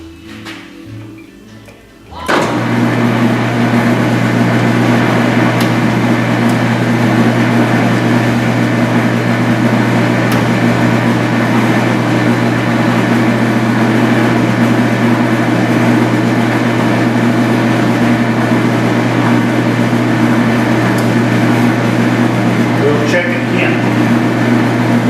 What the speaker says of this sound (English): So I'm going to try that scratch cut again and see what it looks like.